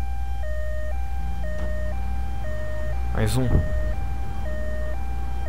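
Ambulance siren in the video game GTA 3 wails in a steady two-tone pattern under a running engine, while someone speaks briefly over it.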